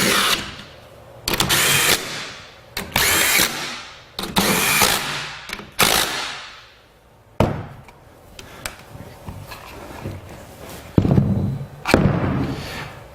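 A power tool tightens the compression blocks on a rebuilt 2004-2009 Toyota Prius hybrid battery in a series of loud close whirring bursts, each ending abruptly, separated by short pauses and handling noise.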